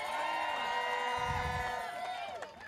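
A crowd at a morning political rally for Trump's impeachment cheers and whoops continuously, a dense steady roar of many voices with a swell of louder shouting midway.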